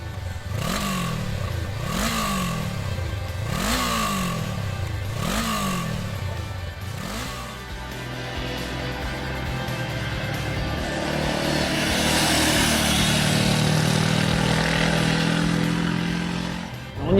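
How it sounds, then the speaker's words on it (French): A Honda A2-class motorcycle with a 471 cc inline twin-cylinder engine revs repeatedly in rising sweeps, then settles into a steady, louder running drone as it pulls away, no talking. "Un moteur bicylindre en ligne de 471 cm3 qui délivre ses 35 kW à 8500 tours-minute avec un couple maxi de 43 Nm à 7000 tours-minute."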